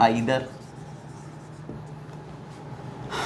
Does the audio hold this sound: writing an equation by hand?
yes